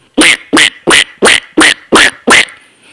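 A voice imitates a duck, giving seven loud, evenly spaced nasal quacks in a steady rhythm, each separated by a brief silence.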